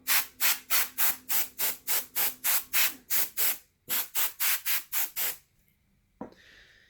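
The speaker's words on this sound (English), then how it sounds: "grab a can of compressed air and give that a nice dust off" A can of compressed air dusts off an iPad Mini 4 screen in short, evenly spaced hissing bursts, about fifteen in quick succession, loud and close, followed by a faint rustle and a brief click.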